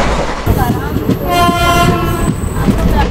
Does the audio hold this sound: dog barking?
no